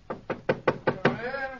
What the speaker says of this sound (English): Let's tap on his study door.